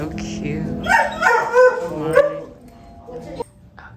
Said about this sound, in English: look at the doggy over there